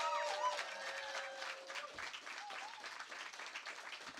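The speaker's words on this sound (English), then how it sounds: "Can we give a massive round of applause for the organisers?" An audience at a poetry slam in Manchester breaks into sustained, dense applause for the organisers. The clapping stays fairly even and is heard from some distance under a voice near the start.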